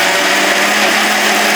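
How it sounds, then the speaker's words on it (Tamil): A kitchen mixer grinder whirs loudly and steadily as it grinds bottle gourd into dosa batter, a continuous close motor roar that cuts off abruptly at the end. "மிக்சியில் அரைச்சிக்கலாங்க."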